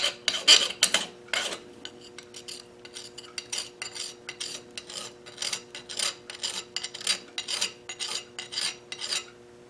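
End of a metal camera-mount part being filed clean, with a steady run of rhythmic rasping strokes, close and fairly loud, each stroke a short scrape followed by a brief gap.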